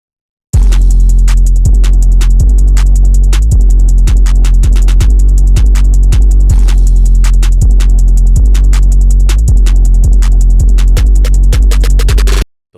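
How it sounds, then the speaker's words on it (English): An equalized drum beat made for an Osamason-style track plays loud and close, with heavy booming bass kicks under a fast, steady pattern of crisp hi-hats and snares running continuously for about twelve seconds. "This is how all the drums sound together."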